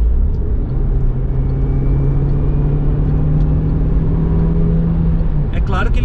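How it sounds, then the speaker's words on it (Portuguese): Citroën C4 Cactus THP 2022, loaded and heavy, accelerating to overtake on a highway from 80 km/h, a steady loud engine drone with broad road and wind noise, no talk. "vou fazer uma ultrapassagem"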